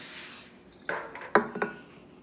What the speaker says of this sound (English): Spray the other one.